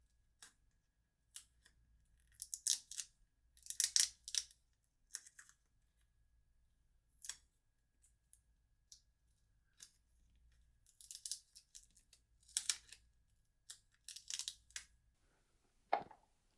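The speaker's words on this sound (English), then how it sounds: "Peel the conductive tape off the display cable connector." Conductive tape being peeled off a display cable connector inside a Dell Latitude 5411 laptop, heard as scattered short crackling, tearing bursts, close and fairly quiet, separated by pauses.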